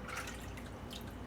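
Running tap water pours steadily over octopus being rinsed in vinegar at a kitchen sink, a continuous close splash and trickle with dripping.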